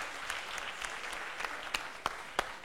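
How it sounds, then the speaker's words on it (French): Audience applause at a Guinean youth debate competition quarter-final, a steady, fairly faint wash of clapping with a few sharper individual claps standing out near the end. "Est-ce qu'on peut applaudir pour l'Afrique, s'il vous plaît?"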